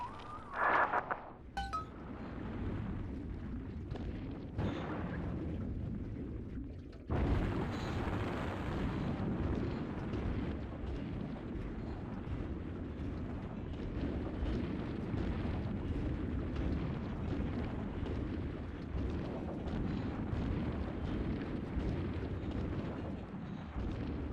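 Bomb explosions in Bioshock 2 rumble as a long, deep, sustained roar, with a sharp burst early on and another surge around seven seconds, then continuous heavy low rumbling that fills the rest.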